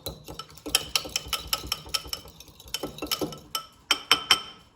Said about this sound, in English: 2 eggs, which we will now whisk together